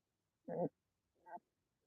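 Labradoodle puppy resting on a lap makes two soft, short grunting vocalizations, close and quiet, separated by a brief pause in an otherwise silent room.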